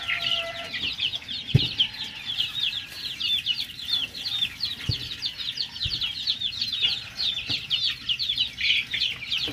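Native chickens in a breeding pen cluck and chatter continuously in a dense, overlapping chorus, with a few sharp knocks and taps breaking through now and then.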